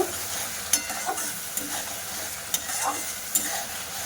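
Ground coriander and cumin being stirred into a frying pan while cooking a pointed gourd korma, with a soft steady sizzle and a few sharp scraping clicks from the spoon, close and with no talk.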